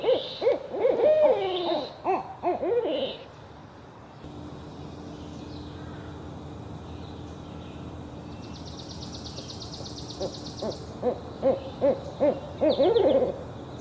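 Owls hoot in a Brazilian wild-animal setting, a series of low, soft calls set among fainter background chirps and ambient noise, loudest near the start and end of the stretch.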